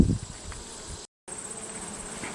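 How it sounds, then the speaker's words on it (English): Bees at a hive with the top super open, a steady faint buzzing hum under light handling noise, broken by a brief moment of silence partway through. "They've got about a frame of bees up here in the top super."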